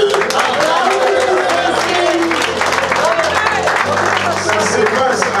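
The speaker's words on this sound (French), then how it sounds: "Acclamons pour Jésus." A church congregation cheering and applauding for Jesus, loud sustained clapping and crowd noise with voices mixed into the roar and a steady tone underneath throughout.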